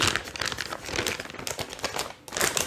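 A plastic bag holding faux icing for cookie decorating is folded and sealed, with continuous close crinkling and crumpling of the plastic, a brief pause, then more rustling.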